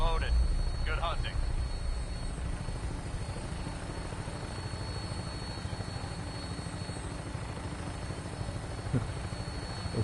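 Vertibird aircraft in Fallout 4 lifting off: a steady, loud rotor and engine drone runs throughout, with a brief radio-style voice near the start and a faint talking voice later.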